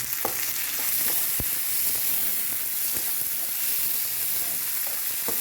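Onions and tomatoes sauté in a pan for an egg roast, giving a dense, continuous sizzle and hiss with occasional stirring knocks. It is close and steady, with no talking.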